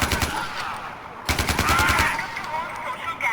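Two bursts of rapid automatic gunfire in Far Cry 4, loud and close, separated by a brief pause, with a faint voice underneath.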